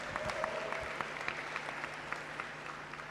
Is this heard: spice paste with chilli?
no